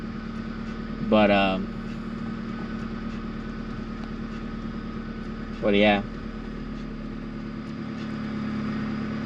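A 1991 Honda Civic hatchback's engine idling with a steady low rumble, heard close, as someone talks briefly over it twice.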